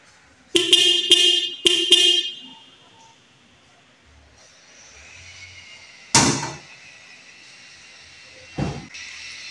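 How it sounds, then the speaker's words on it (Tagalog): Stock single-tone horn of a Toyota Hilux Tamaraw sounds in a few loud, close honks, two pairs in quick succession, followed by quieter clunks and a low mechanical hum. "napakinggan natin yung tunog ng busina niya"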